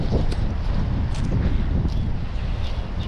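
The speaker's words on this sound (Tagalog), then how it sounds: "Mahangin na." Wind gusts steadily by the water at a fishing spot, a dense, rushing roar buffeting close to the microphone with faint rustling, and no voices.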